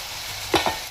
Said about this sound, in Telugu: ఉల్లిపాయ పేస్ట్ వేసి కలిపినాం కదా